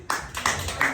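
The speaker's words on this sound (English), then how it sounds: "One more round of applause for Thomas." A small coffee-shop audience applauds a stand-up comedian: a brief, close burst of clapping that swells and dips over about a second.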